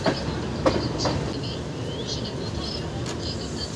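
Howrah–Puri Express passenger train running near Cuttack, a steady rumbling rail roar with faint clicks and occasional sharp knocks throughout, heard from on board.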